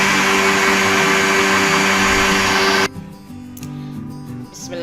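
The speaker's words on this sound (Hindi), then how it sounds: "2 मिनट बस हमने ना ब्लेंडर को चलाया है।" Countertop blender whirring loudly as it blends plums with sugar for a plum soda, a steady dense roar that cuts off abruptly partway through, leaving quieter room sound with faint movement.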